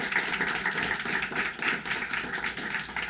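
An audience applauds donors at a Families and Youth Inc. gathering. The clapping is continuous and moderately loud, a steady wash of many hands with no voices.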